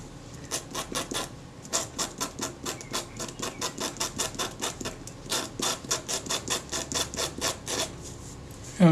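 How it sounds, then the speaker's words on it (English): Steel scalpel edge scraping old, loose adhesive off the base of a Kodak Retina IIIC camera, a close, steady run of quick rasping strokes repeating in an even rhythm with no talking. "I'm just using the edge of the scalpel to scrape the loose stuff off."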